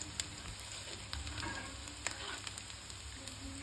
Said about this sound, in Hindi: हल्की आंच पे हम प्याज को फ्राई करेंगे।